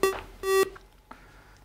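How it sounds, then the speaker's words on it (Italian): Two short electronic ringing tones on a telephone line during a call-in live broadcast, each a bright steady beep separated by a brief gap, followed by quiet line noise. "Sento squillare."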